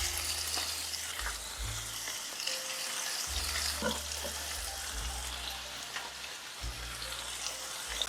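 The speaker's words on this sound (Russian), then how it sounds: "Выкладываю в сковородку половинки помидоров." Tomato halves and bell pepper frying in a skillet for shakshuka, a soft, steady sizzle and crackle like light rain, with occasional clicks of the pan under quiet, low background hum.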